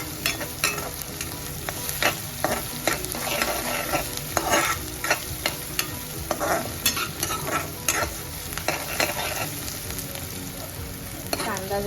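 Onions fry over a high gas flame while a spoon stirs the pan again and again. The sizzle is continuous and close, broken by frequent scraping strokes, with no voices.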